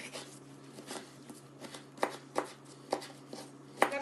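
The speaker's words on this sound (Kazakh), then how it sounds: "Осы балғар бұрышын да бұны да ірі қылып турайтын боламыз қазір." A knife cuts bell pepper into coarse pieces on a board, producing soft, uneven taps and crisp slicing strokes at a relaxed pace, close and fairly quiet.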